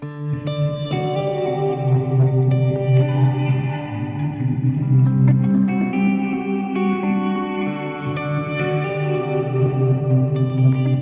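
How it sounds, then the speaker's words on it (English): Electric guitar chords through a reverse effect and a New Neighbor Audio Immerse reverb pedal, washed in reverse swells and long, lush reverb, layered notes blooming and sustaining continuously with no voices. "I have that dialed in for the reverse effect, and then another reverb pedal"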